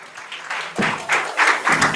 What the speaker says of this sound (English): we have a round of applause here